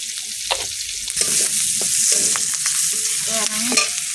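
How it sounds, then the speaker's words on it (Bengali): Onion, garlic, green chili and panch phoron frying in hot oil, a steady close sizzle with spatula scrapes and stirring clatter throughout. "ঝালগুলো লাল লাল করে নিয়েছি পেঁয়াজ রসুন কাঁচা লঙ্কা সব দিয়ে দেবো একেবারে পাঁচ ফোটন দেবো"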